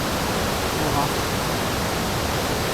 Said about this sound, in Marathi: इकडे मस्तपैकी धबधबा आहे